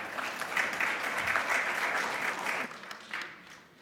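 At a ministerial roundtable at an education conference, a seated audience applauds a minister from Côte d'Ivoire with a dense, sustained wash of clapping that thins out toward the end, heard at moderate distance.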